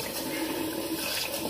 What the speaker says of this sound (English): I can pour a little bit of lukewarm water in it